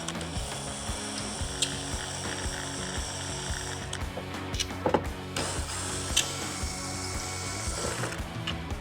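A ratchet wrench loosens the T27 bottom bolts holding the headlight on a 2023.5-plus Harley-Davidson Road Glide, giving a steady run of close, fine clicking with a few sharper knocks.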